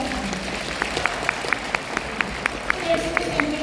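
Seminar attendees clap in a fairly sparse, distinct scatter of hand claps while a voice keeps speaking over them, the applause modest and not very loud.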